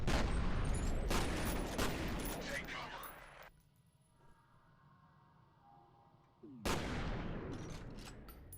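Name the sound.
grenade explosions and gunfire in video game F.E.A.R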